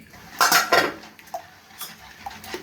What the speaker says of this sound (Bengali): ডিমটা একটু ভালোভাবে গুলিয়ে নিব